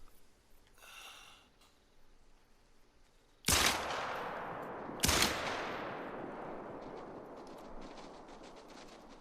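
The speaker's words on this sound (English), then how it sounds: "Oh wow, I put 2 shots into him." Two loud gunshots from a sidearm strike a buck in a hunting video game, sharp cracks about a second and a half apart, each followed by a long rolling echo over faint outdoor ambience.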